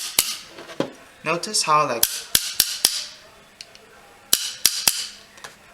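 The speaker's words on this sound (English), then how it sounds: "If you want, you can turn it on just to make sure that your solenoid is actually working." Sharp snapping strikes from a Spyder paintball marker's electronic-trigger solenoid, a few close clicks early, then a burst of three and a later group of three, with someone speaking briefly between them.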